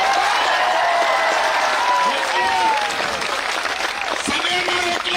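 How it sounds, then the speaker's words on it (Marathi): Steady, dense applause from a large crowd at a protest rally for students, sustained throughout with voices heard over the clapping. "जोरात टाळ्या वाजवणीतून टाकून द्या"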